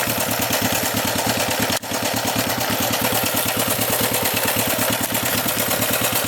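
A 1967 Honda CB450 motorcycle engine idles steadily after a cold start, its loud, even low-pitched pulsing close by and alone, with one brief dip early on.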